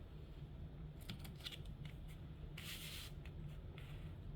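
Scissors trimming excess paper or tape on a craft project, a run of quick close snips and rustling cuts over low room noise, heard alone without talk.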